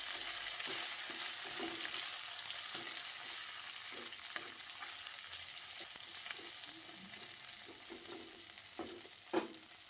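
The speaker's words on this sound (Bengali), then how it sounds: "এর ওপরই আমি গিমা শাকটা দিয়ে দেবো, সাথে তেতো পাতাটাও দিয়ে দেবো। এবার একটু ভালো করে নেড়ে চেড়ে নেব।" Gima greens and bitter leaves fry in hot oil, a steady soft sizzle broken by repeated scraping strokes of a spatula stirring the pan, with one sharper clack near the end and no talking.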